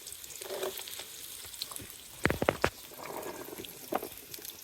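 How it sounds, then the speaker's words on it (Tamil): Small onions fry in oil with a faint, soft sizzle, broken by a short burst of sharp clattering knocks near the middle. "இப்போ எண்ணெயில் வந்து சின்ன வெங்காயம் சேர்த்திக்கலாங்க."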